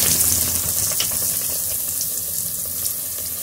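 Potato pakoras frying in a pot of very hot oil, a steady dense sizzle and crackle that runs unbroken at close range, with no voices over it.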